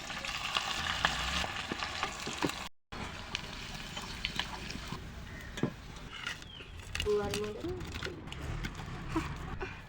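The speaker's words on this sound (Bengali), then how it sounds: "এবার আমি ভেজে নিব" Pakoras made with bean leaves fry in oil with a continuous close crackling sizzle and occasional stirring clicks, broken by a brief silent gap early on.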